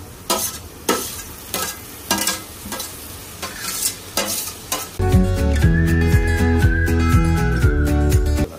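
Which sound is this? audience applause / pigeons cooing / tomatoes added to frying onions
tomatoes added to frying onions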